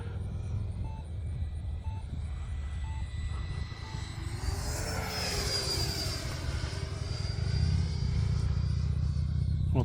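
E-flite Viper 90mm electric ducted-fan RC jet running on a 6500 mAh battery flies a wide, lazy turn under steady power. Its whine is continuous and fairly loud and swells and shifts in pitch midway as it passes.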